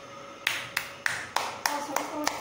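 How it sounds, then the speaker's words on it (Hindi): Audience members clap in sharp, evenly spaced hand claps, about eight distinct beats in quick succession, moderately close and fairly quiet, with faint voices in the background at a family ritual gathering. "ताली बजा"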